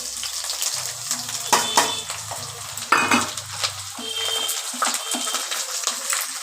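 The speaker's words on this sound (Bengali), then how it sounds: "এবার দিয়ে দিচ্ছি আমি পেঁয়াজ কুচিটা" Chopped onions hit hot oil already seasoned with mace and spices for ghugni, giving a steady close sizzle with stirring scrapes and a few utensil clinks throughout.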